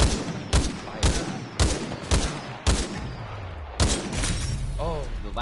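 Gunfire in the video game Titanfall 2: six loud, sharp shots spaced about half a second to a second apart, with a voice heard briefly near the end.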